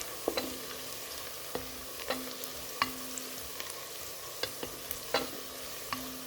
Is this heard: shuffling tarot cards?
no